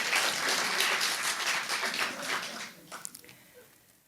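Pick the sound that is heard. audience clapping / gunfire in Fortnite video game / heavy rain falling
audience clapping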